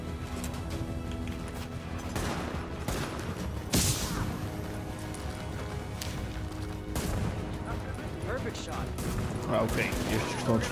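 Rapid gunfire from enemy agents rattles through The Division's police-station firefight in repeated loud bursts and volleys, with a booming impact midway, while someone talks over the continuous combat.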